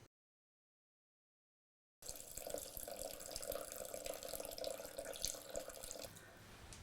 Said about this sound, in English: Now we'll add 200 grams of wine,